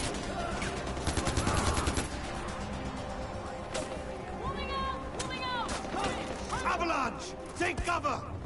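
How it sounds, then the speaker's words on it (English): Ammunition cooks off in the video game Far Cry 4, sending out a rapid, irregular run of sharp pops and bangs over game noise, with a voice talking at times. "it's a ammo pop"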